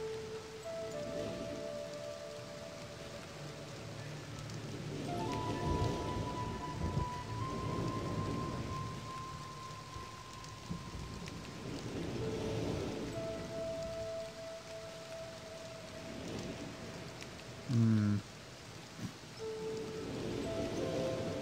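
Steady rain pours in the realMyst video game while rolling thunder swells and fades several times, with musical tones drifting beneath and a brief knock late on.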